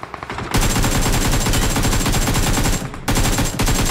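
Rapid automatic gunfire in BGMI, loud and close, in two long bursts split by a brief pause, with no talking.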